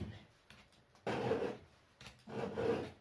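Two slow rasping strokes of a hand file sharpening chainsaw chain teeth on a Stihl 044, each stroke about half a second of gritty scraping, quiet and close, with no talking.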